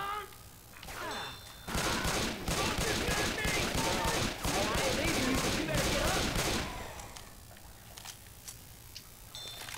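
Rapid bursts of gunfire in the zombie shooter Left 4 Dead 2, a dense, loud volley of automatic shots lasting several seconds, with quieter game ambience and faint voices before and after.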